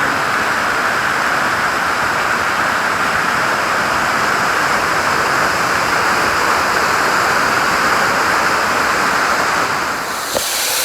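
Bilawa Falls in Maco, Davao de Oro, gives a steady, loud roar of falling water that fills the whole scene as continuous broadband rushing, close and unbroken, with no voices.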